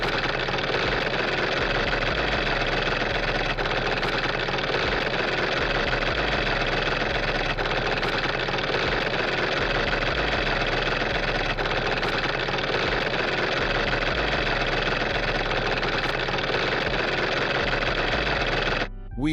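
A heavy equipment tractor's engine runs near rocks, a steady, close mid-pitched diesel rumble with a faint rhythmic knock that holds evenly throughout.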